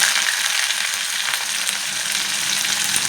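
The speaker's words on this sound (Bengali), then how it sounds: "আর দিচ্ছি পেঁয়াজ কুচি" Chopped onion with black cumin seeds frying in hot oil for a fish curry with potatoes, a steady, dense sizzle that stays loud and even throughout with no voices.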